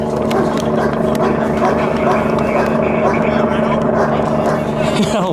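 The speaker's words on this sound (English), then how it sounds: "look at the helicopter there" A police helicopter flies overhead above a residential backyard, its steady, loud rotor and engine drone continuous beneath excited voices talking.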